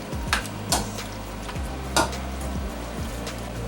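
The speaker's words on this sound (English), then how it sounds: "Stir it well." Chicken paneer pasta sauce with spinach being stirred in a pan over low heat, with a few sharp spoon scrapes and knocks against the pan over a low, steady bubbling sizzle.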